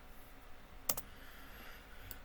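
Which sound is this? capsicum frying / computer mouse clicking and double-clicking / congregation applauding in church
computer mouse clicking and double-clicking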